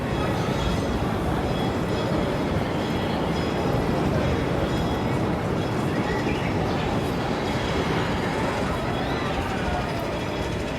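A train rolls past at Disney California Adventure, a continuous, fairly loud rumble with faint clatter of wheels, steady throughout and close by.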